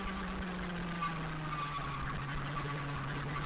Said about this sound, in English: I love the sound of that engine. It sounds very meaty on this camera.